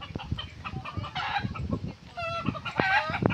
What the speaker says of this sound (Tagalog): maririnig din po nyo yung tilaok ng manok